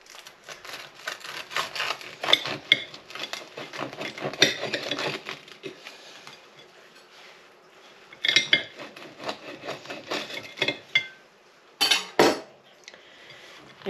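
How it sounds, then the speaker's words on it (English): A knife and cutlery scraping and clinking against a plate while a fish finger sandwich is put together, a busy stretch of close metallic scrapes and taps, a quiet pause, then more sharp clinks and a few louder knocks. "Just going to use this knife."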